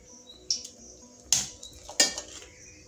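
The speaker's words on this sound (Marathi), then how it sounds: "ज्या मोठ्या आहेत त्यांना आपल्याला पिझ्झा कटरने किंवा कातरने कट करून घ्यायचं आहे" Large green chillies being cut with a pizza cutter or kitchen scissors, three sharp metallic snips spaced across a couple of seconds over a faint, quiet kitchen background.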